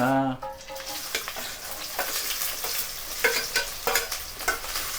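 Onions fry in hot oil in a pan for a mutton dish and are stirred, with a steady close sizzle broken by repeated scraping stir strokes. A brief tonal sound is heard at the very start.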